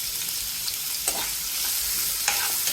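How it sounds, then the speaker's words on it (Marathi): Finely chopped onion frying in oil with cumin, a dense continuous sizzle close up with a couple of spatula scrapes stirring through it. "त्याचा कलर हा थोडासा गोल्डन ब्राऊन होईपर्यंत आपल्याला कांदा तेलामध्ये भाजून घ्यायचा आहे."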